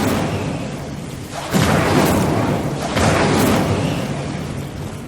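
Incendio fire spell blasts in Hogwarts Legacy, two loud roaring bursts of flame in quick succession, each swelling then fading over a sustained rushing background.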